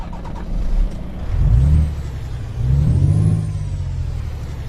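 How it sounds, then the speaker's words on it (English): A Kenworth W900 truck engine starting in Euro Truck Simulator 2: a deep, low rumble that swells in two heavy surges before settling into a steady idle, heard alone with no talking. "Start the engine."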